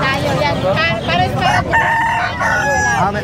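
A Bengala rooster crows loudly and close at an outdoor pet market, its drawn-out harmonic calls repeating over about three seconds amid a busy background of market noise.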